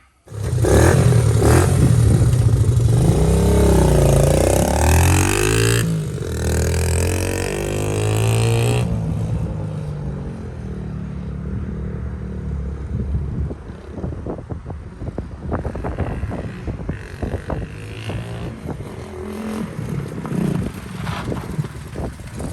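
A Honda XL70 motorcycle ridden in laps around a parking lot, engine loud and close at first with rising revs and gear changes, then fading to a steadier, more distant drone with wind buffeting the microphone.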